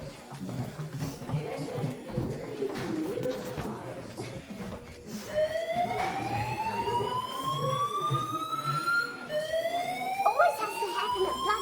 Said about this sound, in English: We're evacuating. Alarms are going off.